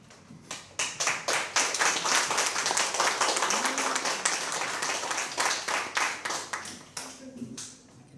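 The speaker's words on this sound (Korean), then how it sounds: "큰 박수로 환영해 주시면 감사하겠습니다" Loud, sustained applause from a large crowd at a church youth service, dense clapping that swells and holds for several seconds before thinning into scattered claps.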